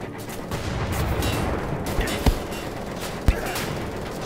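Enemy gunfire in Wolfenstein: The Old Blood: two sharp, loud shots about a second apart over a steady rumble of game noise.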